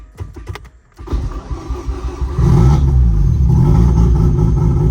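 A Mazda RX7 FC3S rotary engine cranks over with a few starter bursts, catches after a pause, then settles into a loud, steady, rich-running idle close by.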